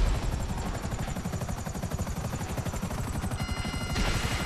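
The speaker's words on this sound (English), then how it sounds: "Can you just destroy the copters?" Helicopter in the video game GTA, its rotor chopping in a fast, steady pulse, loud and close throughout, with no talk over it.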